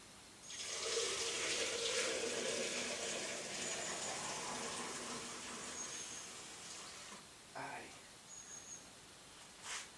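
Tap water gushes steadily into a Parkside pneumatic sprayer, a broad continuous splash lasting several seconds before tapering off, followed by a few brief knocks and drips near the end.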